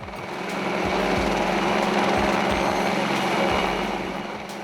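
A Helimatic Uppercut helicopter aerial saw trims branches from the air, its loud, steady mechanical drone swelling and fading as it passes, with low rhythmic thumps running underneath.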